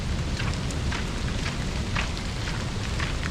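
Pouring rain falls at a national park lookout at Burleigh Heads during Queensland floods, a dense and steady close hiss with scattered heavier drops and no voices.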